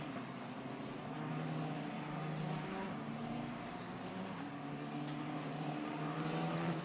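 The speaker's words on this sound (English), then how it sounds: "as the field come down the highest part of the circuit, down through Tosa" Italian F4 race cars run through the Tosa corner at the Imola circuit with a steady, distant engine drone that rises and falls slightly as the field passes. The sound is faint and continuous, with no talking.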